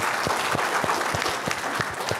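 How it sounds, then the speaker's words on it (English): Audience clapping at a county commissioners candidate forum, a moderate roomful of hands with a few distinct nearby claps punctuating the steady patter, no speech over it. "I'll let you clap."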